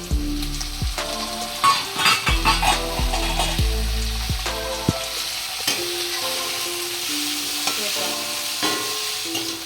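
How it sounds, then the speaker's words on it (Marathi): Paneer roasts on a full gas flame for Marathi-style chilli paneer, sizzling steadily while repeated clattering knocks of a spatula stirring in the pan come close and loud, thinning out toward the end. "हे बघा असं चांगलं फुल गॅसवर भाजून घ्यायचं आहे"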